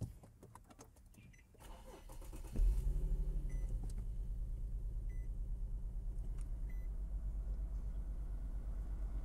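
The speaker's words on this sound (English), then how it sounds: "Vehicle rough on idle." An Infiniti G37 with a misfiring ignition coil cranks and catches, then settles into a loud, close idle with an uneven, pulsing throb that runs steadily to the end; nobody speaks.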